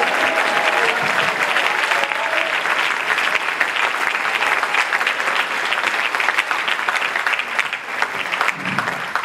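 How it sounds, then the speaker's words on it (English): A church congregation claps and shouts in praise, a sustained, dense roar of applause with voices blended in that stays loud for the whole stretch. "Give a loud clap and shout, praise the Lord"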